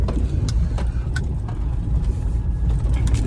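Mahindra XUV500 diesel SUV engine idling along in clutch during an off-road torque test, a low steady rumble close by with faint clicks and rattles over it, no talking.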